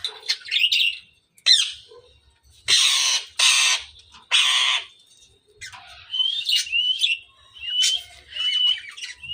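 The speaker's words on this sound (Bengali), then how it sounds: "আর এখানে হচ্ছে আমাদের সবগুলো পাখি আছে" Several caged pet birds chirp and squawk in short bursts, with bright tweets and harsh loud squawks alternating with brief pauses, close by and with no talking.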